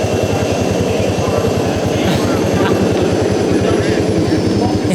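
A loud, steady turbine whine with a rapid pulsing drone underneath, like an aircraft engine running up close: a Chrysler Turbine car engine at the Detroit Concours d'Elegance.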